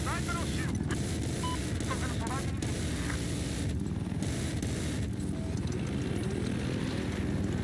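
Enemy helicopter in the Battlefield 4 video game, a steady rotor and engine drone running throughout amid gunfire-like bursts and game noise, with a voice speaking over it.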